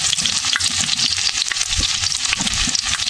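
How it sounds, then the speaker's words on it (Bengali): Chopped onions frying in a pan with cumin for a meat curry, a steady loud sizzle with stirring scrapes running throughout, no talk. "কুচিয়ে রাখা পেঁয়াজগুলো সব দিয়ে দিচ্ছি মাংস কষানোর জন্য। আমি এটা করে ভেজে নেবো ভালো করে।"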